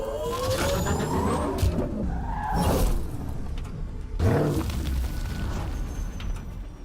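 The Nomad vehicle in Mass Effect Andromeda, a rover with jump jets and two turbo boosters, drives across the planet Eos, with a loud engine roar that surges and fades along with rushing whooshes.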